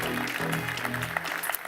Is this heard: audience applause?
yes